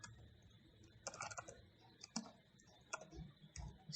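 Fingers tap quietly on a computer keyboard, a faint, uneven run of soft key clicks in a hushed room.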